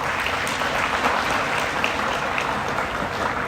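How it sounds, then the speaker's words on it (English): Graduating students at a science high school moving-up ceremony applaud themselves, a continuous, fairly loud crowd clapping that fills the whole stretch without speech. "give yourselves a big round of applause"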